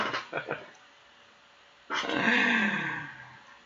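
A neighbor's dog barks and growls a few times at the start, then a longer, louder bark or growl follows, all heard from a short distance with no talk over it.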